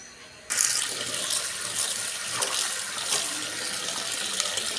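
Cut flat beans are rinsed under a kitchen tap. Water suddenly gushes on and then runs steadily and close by, splashing over the beans, with no voices.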